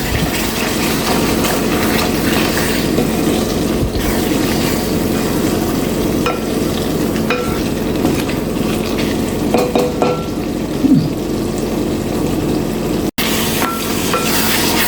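Egg biryani masala gravy being stirred in a pot, loud continuous bubbling sizzle with repeated scraping and clanking of a spoon against the metal, a sharp knock near the end, no voices.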